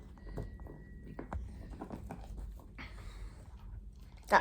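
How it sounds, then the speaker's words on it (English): A pet dog named Sunny gnaws on a bone indoors, giving soft, irregular crunching and scraping bites close by, with some quiet background noise. "You're going to hear a lot of that noise now because she's chewing a bone"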